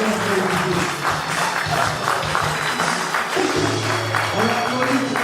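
Sustained applause from a crowd at a celebration for retired mothers in Côte d'Ivoire, continuous and fairly loud, with music or voices mixed underneath.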